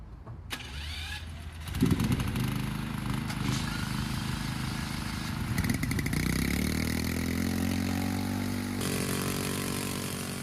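Small petrol generator engines are started one after another outdoors, each catching with a rising rattle and then settling into a steady, buzzing run that layers into a continuous drone.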